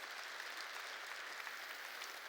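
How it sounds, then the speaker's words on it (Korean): Inside a church, the congregation claps together in praise to God, a continuous soft patter of many hands heard fairly faintly and evenly throughout, with no speech on top. "박수로 하나님께 영광 돌리시기 바랍니다"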